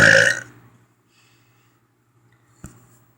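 A person lets out a loud, close burp that fades within half a second, followed by quiet room tone and a short faint click.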